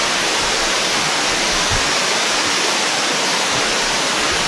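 Loud, constant roar of a waterfall pouring down, a dense full-band rush with no pauses and no voices.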